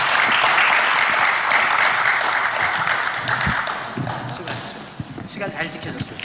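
Applause closing a church denomination's candidate hearing, a loud, dense burst of clapping that fades after a few seconds into scattered claps and a murmur of voices.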